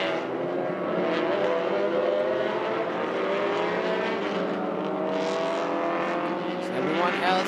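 Touring race cars in a TP2000 championship race at a Malaysian circuit, one overtaking another on the inside, engines droning steadily and loud throughout under continuous commentary.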